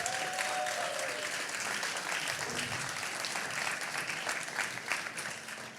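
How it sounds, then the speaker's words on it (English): An audience at a tech conference breaks into sustained applause, a dense wash of clapping from a large crowd that holds steady for several seconds in a reverberant hall. "Please give them a huge round of applause."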